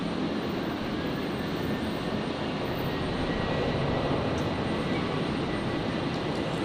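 Qantas flight 541 airliner rolling down the runway at Brisbane airport, a steady broadband engine roar held at an even level, fairly close and continuous throughout.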